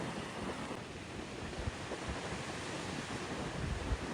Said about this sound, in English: we make one last stop to take a look at Port Noarlunga Beach